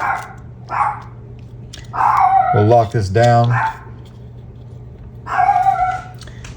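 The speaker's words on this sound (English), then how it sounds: "my daughter's dog in the background" A small six-pound dog yaps several times in the background of a room, short high barks in bursts, while someone speaks briefly in the foreground.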